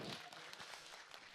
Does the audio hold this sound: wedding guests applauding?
yes